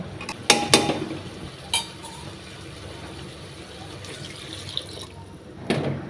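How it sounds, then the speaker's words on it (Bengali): Water added to a pressure cooker for boiling in a home kitchen: a soft, steady pour with several sharp metallic clinks and knocks from the pot, close and fairly quiet. "অল্প পরিমাণে পানি দিয়ে সিদ্ধ করতে দিচ্ছি"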